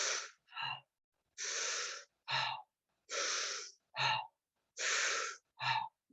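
A person demonstrates cycle breathing, alternating long loud inhales with short sharp exhales in a steady rhythm, close and alone with no talking.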